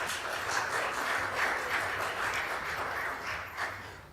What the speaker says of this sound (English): So a round of applause for them one more time,